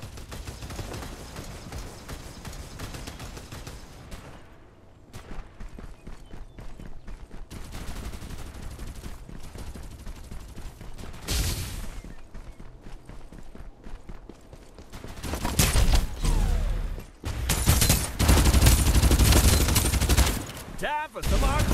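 Rapid gunfire from the Farlight 84 battle game rattles in bursts, with sparse shots early and dense, loud automatic volleys building near the end, close and punchy among other game effects.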